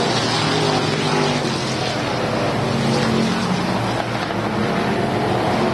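Race cars roar down the front straightaway during an A-Main, a dense, steady wall of engine noise that stays loud throughout.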